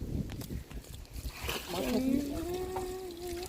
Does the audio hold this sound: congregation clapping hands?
no